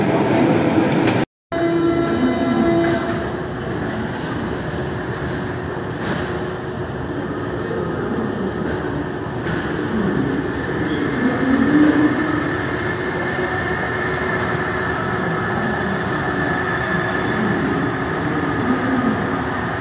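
Siemens VAL 208 metro train running between Borderouge and Ramonville, a steady loud rumble of wheels and motor throughout with a brief dropout near the start and faint squeals over the continuous drone.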